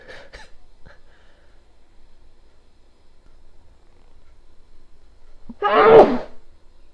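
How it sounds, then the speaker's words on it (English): One loud, close sneeze from a person ill with COVID-19 bursts out near the end, after a long quiet stretch broken only by a couple of soft breaths or sniffs. "it doesn't usually make me sneeze, but because I'm ill"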